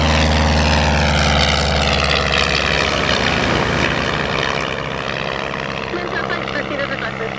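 Propeller aircraft passing at EAA AirVenture Oshkosh 2018: a loud, continuous engine drone with a strong low hum dominates, its tone shifting midway as the plane goes by, with a voice talking over it.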